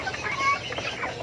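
Young Burmese chickens cluck and peep in a coop, several soft overlapping chirps close by, continuous and busy.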